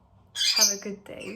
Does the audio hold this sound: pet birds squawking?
yes